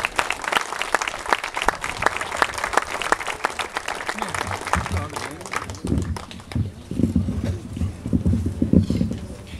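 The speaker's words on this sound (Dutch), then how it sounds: "Mag ik een warm applaus" Crowd at the reopening ceremony of a windmill gives a warm round of applause for a speaker, crisp dense clapping that thins out midway as murmuring voices and background chatter take over.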